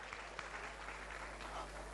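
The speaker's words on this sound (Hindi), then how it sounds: "आज भारत सरकार के लिए भी तालियां बजाइए।" Audience applause during a daily discourse by Acharya Vidyasagar, a steady, moderately distant wash of many hands clapping with no clear breaks, picked up faintly through the hall.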